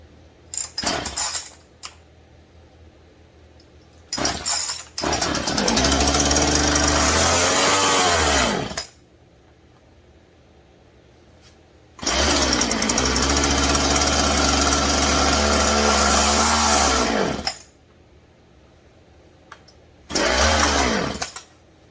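A Stihl MS171 chainsaw with a freshly swapped carburetor fires up in loud, close bursts, first a few short sputters, then two sustained runs of roaring, revving engine separated by quiet pauses, and a final brief burst.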